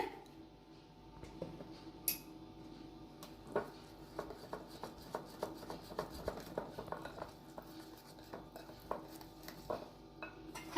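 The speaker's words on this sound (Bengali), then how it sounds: "1 চামচ ঘি দিয়ে দিলাম। ভালো করে মিশিয়ে দিতে হবে।" Carrot cake batter is stirred with a spoonful of ghee in a bowl, giving a steady run of soft, wet squishes and light ticking scrapes of a utensil against the bowl, close and fairly quiet, with no talking.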